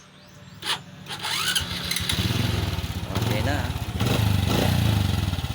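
A rebuilt Honda XRM 125 motorcycle engine is kicked and fires up, settling into a steady, close, rhythmic putter that holds for several seconds, with someone speaking briefly at the start.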